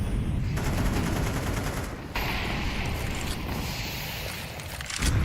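Gunshots fired through smoke in a video game esports match: steady rapid shots, fairly loud and close, with a short pause near the two-second mark and a bang at the end, and almost no speech.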